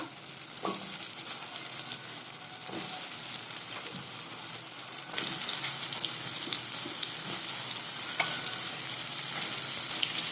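Vegetables and tomatoes sautéing together in a pan for bisi bele bath, a steady close sizzle broken by occasional stirring knocks, growing fuller and louder partway through, with no talking.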